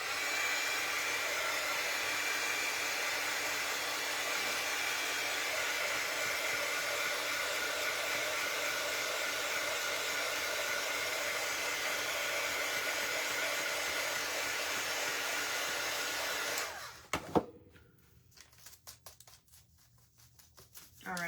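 A hair dryer blows steadily and loudly for about seventeen seconds, drying craft paint on a pink pumpkin fall shelf decoration, then cuts off, leaving a quieter room.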